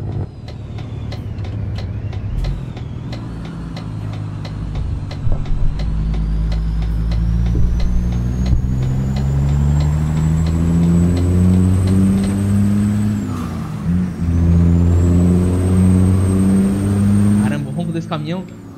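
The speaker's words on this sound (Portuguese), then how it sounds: "Caramba, o ronco desse caminhão." Volvo NL12 truck engine in Euro Truck Simulator, a loud continuous diesel roar that rises and falls with revs and gear changes, a brief dip midway, with a faint whistle above.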